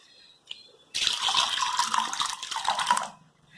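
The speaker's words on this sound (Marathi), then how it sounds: "हे मी डाळ आणि शेंगदाणे दोनदा धुवून घेतले." Lentils and peanuts are rinsed in water in a kitchen, a steady sloshing, splashing wash that runs for about two seconds after a brief faint knock, then stops.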